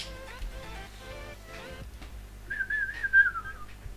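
A person whistles a short, wavering, slightly descending tune up close. It comes after a moment of low, muffled background noise with no speech.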